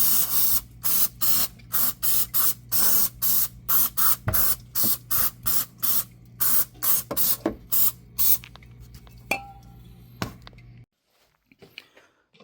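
An aerosol can of brake parts cleaner sprays in a rapid series of short, sharp hissing bursts during a 2015 Toyota Sienna oil change, close and loud, then stops, leaving quiet clinks and handling noises.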